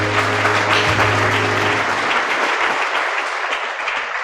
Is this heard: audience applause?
yes